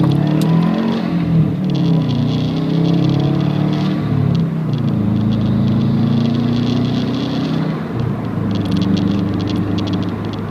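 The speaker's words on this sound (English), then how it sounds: "Let's do a little fun acceleration for you guys." A 2011 Subaru WRX with a manual gearbox accelerates hard, its engine note climbing steadily, easing off briefly and then pulling again, loud and close from inside the car.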